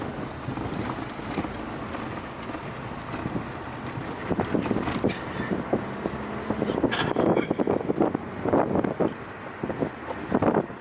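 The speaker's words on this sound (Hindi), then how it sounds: "ठंडी हवा चल रही है" Cold wind blowing steadily on a mountain road toward Babusar Top, a broad continuous roar with microphone buffeting that grows louder and gustier in the second half, no talk over it.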